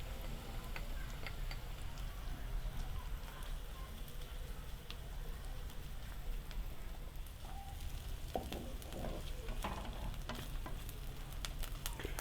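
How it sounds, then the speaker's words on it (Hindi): Onions sauté lightly in a pan, giving a steady, faint sizzle with occasional ticks and light stirring scrapes that continue evenly throughout. "प्याज हमारे लाइट से सोते हो रहे हैं"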